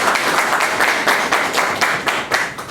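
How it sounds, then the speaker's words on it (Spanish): Brisk applause from a seminar audience of lawyers, dense close clapping that pulses along for a few seconds. "la doctora Kerstin Boitano, a quien saludamos con fuerte aplauso."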